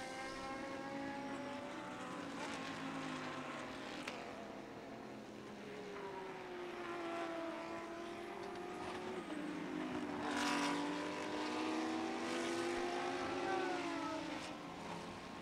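GT race cars sweep through a corner at a circuit. Several engine notes rise and fall in pitch as the cars pass and change gear, heard from a moderate distance and fairly faint throughout.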